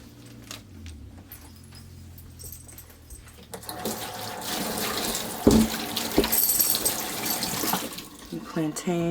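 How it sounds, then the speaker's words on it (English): Water runs from a kitchen sink tap while produce is washed, starting as a quiet trickle and swelling into a louder, splashing gush with clattering handling noises. "if you want to, you can fill your sink up with water."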